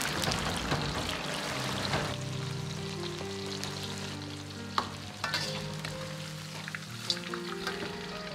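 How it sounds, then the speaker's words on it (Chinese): Battered chicken pieces deep-frying in hot oil for spicy Sichuan-style chicken, a steady close crackling sizzle with bubbling and occasional sharp pops and clinks, continuous throughout with no voices. "炸至一分半钟，然后捞出。"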